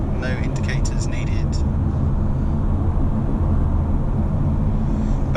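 2018 Mercedes C220 Cabriolet pulling up to motorway speed, a steady loud road and engine rumble with wind roar filling the cabin, brief higher whines near the start.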